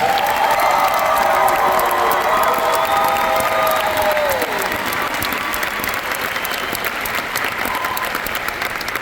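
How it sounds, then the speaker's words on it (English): Concert audience applauding and cheering for a choir's alto section at a spring concert honoring seniors, a loud, dense, sustained roar of clapping with whoops and tonal cheering voices early, holding steady throughout. "Let's give a round of applause for the altos"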